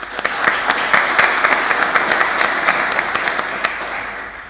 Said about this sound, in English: It's very generous of you to applause before I've even opened my mouth.